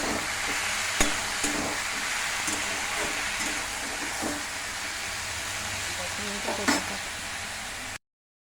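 Bitter gourd and potatoes fry in a pan with a constant close hiss and sizzle, broken by a few soft clicks and taps.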